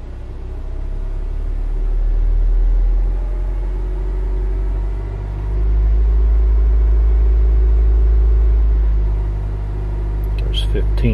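A 2008 Honda Civic engine idles at roughly 874 RPM, giving a steady low rumble with slow swells in level and no talk over it, and a brief clatter comes near the end.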